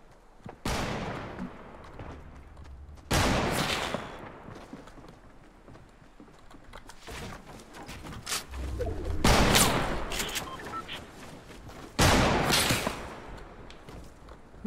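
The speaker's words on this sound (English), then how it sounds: "Who's shooting me?" Gunfire in the Fortnite video game, shooting at the player during a Wild West mode match: several loud bursts of shots spread across the clip, with quieter game noise filling the gaps between volleys.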